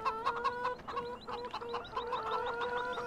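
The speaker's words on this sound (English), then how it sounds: "These are my 200 chickens." Chickens in Farming Simulator 2015, a flock of about two hundred, cluck in a busy, overlapping chorus of short, repeated calls over a steady background hum, with no talking.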